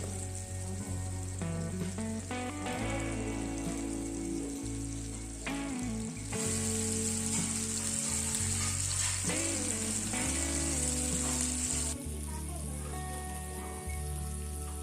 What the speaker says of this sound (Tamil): எறாவை 15 நிமிஷத்துக்குள்ளே ஃப்ரை பண்ணி எடுத்துக்கோங்க